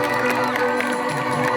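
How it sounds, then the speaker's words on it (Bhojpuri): A brief burst of crowd cheering and whooping, loud and close, with some applause mixed in. "आर्यन बाबू के लिए जोरदार ताली आप लोग बजाए"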